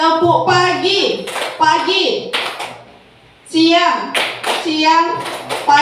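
A group of women clapping a call-and-response clap chant at a positive-culture training session, sharp bursts of claps in quick rhythmic clusters mixed with a leader's spoken cues, a brief pause, then more claps.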